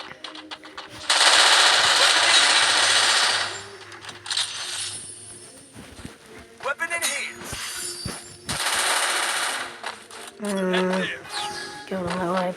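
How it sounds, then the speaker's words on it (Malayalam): Rapid machine-gun bursts and single shots from the mobile shooter game Free Fire, loud bursts recurring across the stretch, with players talking in between. "വായ്പരൊക്കെ വെടിയൊക്കെ ഉണ്ട്."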